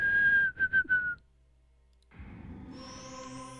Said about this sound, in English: It's a chicken whistle.